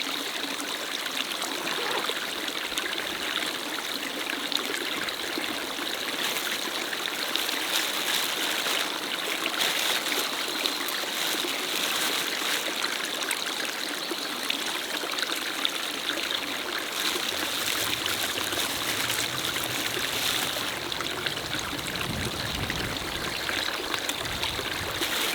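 A small brook in the Erzgebirge hills flows steadily beside a walking path, a continuous close babble and trickle of water at even level with no voices.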